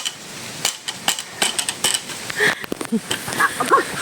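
A hammer pounds repeatedly, sharp uneven strikes landing close by at an irregular pace, with a few brief higher clinks near the end and no talk over them.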